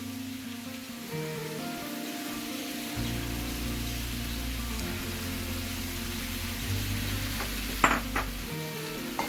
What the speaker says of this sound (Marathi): आता मी हे चांगलं परतवून घेत आहे. ते मी कोलंबी टाकत आहे.